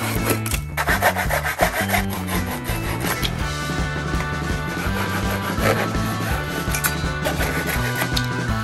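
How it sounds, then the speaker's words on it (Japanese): A handsaw cuts through plywood in steady back-and-forth strokes, close and loud, with a continuous rasping rhythm throughout. "ここをノコギリで切っていきます"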